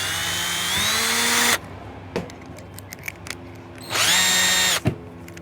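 A power drill with a spot weld cutter whines in two short bursts, spinning up and cutting through a car's radiator core support, with small clicks and taps in the quiet gap between.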